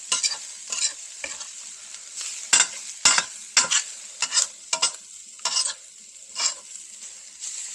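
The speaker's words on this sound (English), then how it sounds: "Stir this around." A spoon stirs Italian wedding soup in a pot after the heat is shut off, making a series of close, distinct scraping and sloshing strokes in an irregular rhythm.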